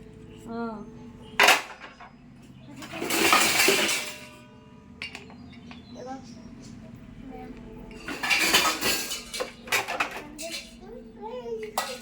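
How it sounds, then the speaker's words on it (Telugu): Plates and spoons clatter and clink as they are set down and put away, two loud bursts of dishware rattling with a sharp knock between, while people talk nearby in a home kitchen. "ప్లేట్లు ఇక్కడ పెట్టాలి, ఇగో ప్లేట్లు ఎక్కడ పెట్టాలి, ఇక్కడ పెట్టాలి."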